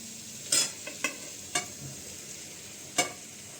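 Thick poha goes into a pan and is stirred for batata poha, with a low background sizzle and several sharp spatula scrapes and knocks at irregular intervals.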